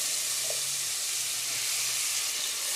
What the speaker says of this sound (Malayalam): ഇനി നമുക്ക് അടുത്തതായിട്ട് നമ്മൾ അരിഞ്ഞു വെച്ചിരിക്കുന്ന ആപ്പിള് ഈ നമ്മുടെ നെയ്യിലേക്ക് ചേർത്ത് കൊടുക്കാം.